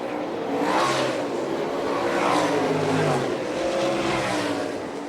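Sprint cars race around a dirt oval at Fremont, Ohio, with engines revving in steady waves of loud, continuous roar as the cars pass. Faint voices sit beneath the engines.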